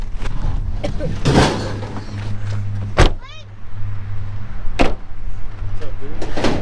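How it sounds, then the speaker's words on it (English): Car door shut with a sharp thud near the middle, under a steady engine hum inside the vehicle while people talk around it. "Shut the door."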